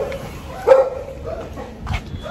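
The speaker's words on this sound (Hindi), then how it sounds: "कुत्तों की आवाज़ आई गई होगी।" A dog barks a few times indoors at home, a sharp yelp near the middle and another bark toward the end, moderately loud over a low background hum.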